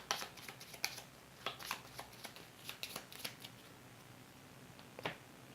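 Cards from the This War of Mine board game being shuffled and handled, a series of quiet crisp riffling snaps spread over several seconds, with no one speaking.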